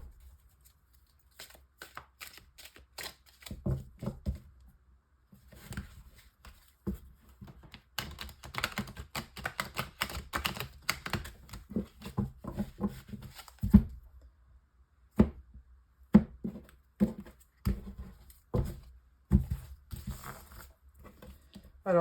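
Tarot cards are shuffled for a nine-card spread as soft, close papery riffles and taps. They come in irregular bursts with short pauses, sounding alone and without speech.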